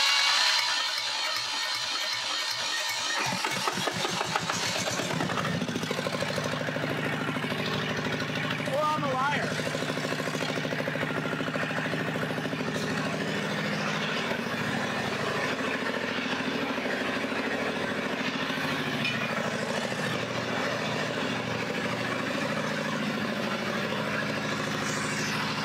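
Restored John Deere skid steer with a hard-starting fuel system cranks briefly, then catches and settles into a steady, loud diesel idle that runs on continuously.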